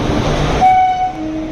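The LTT Superfast Express pulls into Pune Junction, its horn sounding a long steady blast over the loud rumble of the rolling carriages, heard from on board.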